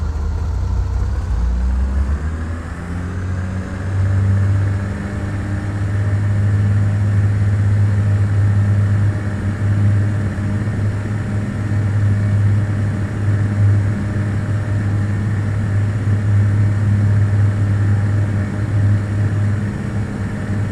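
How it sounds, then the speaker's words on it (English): Light aircraft engine running at full takeoff power in Flight Simulator 2004 during a complex aircraft checkout, a steady loud droning hum with a strong low harmonic tone that holds constant throughout, no voices. "release those brakes and apply full power and take to the air"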